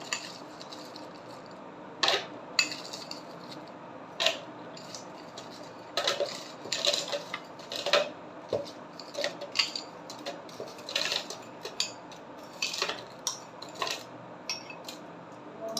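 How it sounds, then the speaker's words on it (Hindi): Small ice cubes drop into a blended mint margarita, giving a scattered run of sharp, close clinks and clatters at irregular intervals over a quiet background. "बर्फ़ ऐड कर देनी है।"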